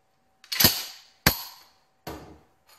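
A Remington 870 pump-action shotgun, made in the USA, is worked by hand during a visual check: three sharp, loud metallic clacks with short ringing tails, then a fainter fourth click.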